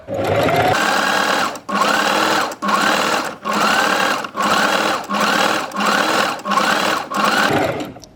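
A sewing machine stitches zigzag seams in steady whirring runs, about eight bursts separated by brief pauses, loud and close with no talking.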